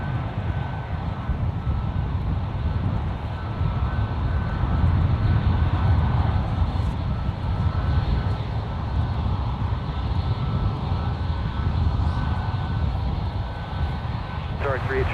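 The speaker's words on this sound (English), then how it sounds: "There's Qatar, Flight 737, or 38 Charlie, I believe is their call sign today. A350 1000 in from Doha." Qatar Airways Airbus A350-1000 jet at San Francisco airport, a steady broad engine roar at a distance with wind noise, heard continuously and evenly throughout.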